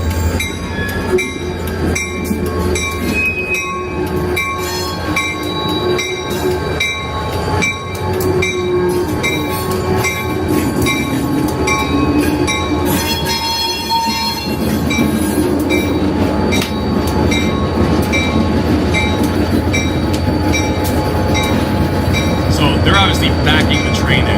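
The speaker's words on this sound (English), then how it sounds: "I find it amazing at how close this train comes to this building" Train rolling past extremely close to a building, a loud continuous rumble with clattering wheels, metallic squeals and ringing tones sustained for the whole stretch, with a voice faintly heard beneath it.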